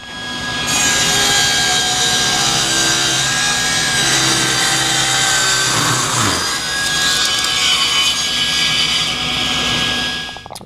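A table saw with a taper jig cutting tapered wooden table legs: a loud, continuous whining saw roar that holds for about ten seconds, with a brief change in pitch partway through as the blade works through the wood.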